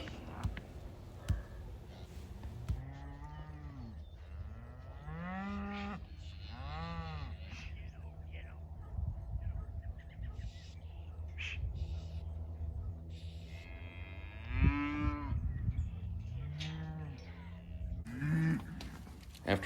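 Cattle being gathered from a field into a corral, several cows and calves mooing and bawling at close to middle distance, calls overlapping irregularly against a quiet outdoor background.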